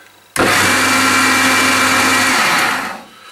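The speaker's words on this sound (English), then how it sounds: "And then I'm just going to run the drill up" A Meddings bench pillar drill with a freshly refurbished drive belt starts abruptly and runs at a steady whirring hum for a few seconds, then winds down as the motor is switched off.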